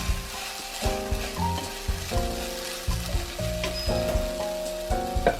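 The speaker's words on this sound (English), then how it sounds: "Stir fry a little bit, then turn off the fire." Spicy and sour shredded potatoes sizzle in a hot pan after a splash of vinegar, a soft, steady frying hiss broken by light stirring scrapes, fairly quiet and without voices.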